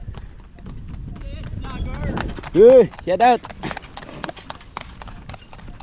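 Hooves of a horse pulling a kalesa clip-clop steadily on the road nearby, with people talking and a loud shout rising above the hoofbeats midway.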